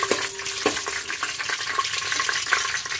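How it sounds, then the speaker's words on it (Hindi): Peanuts frying in hot oil for a breakfast murmura dish, a steady sizzle with bubbling crackle and a few sharp pops, continuous and close with no talking. "तेल गरम हो चुका है, इसमें डालेंगे हम फल्ली के बीज। थोड़ी देर के लिए इसको फ्राई कर लेंगे।"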